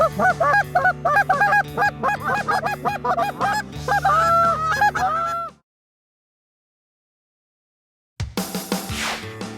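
A flock of geese honks loudly and continuously, then a few seconds of silence before the honking resumes briefly.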